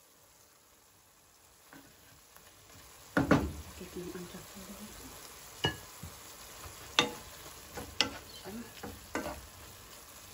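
Chicken fillet frying in a pan for rice with vegetables, a low sizzle broken by several sharp stirring scrapes and clatters while a person talks over it.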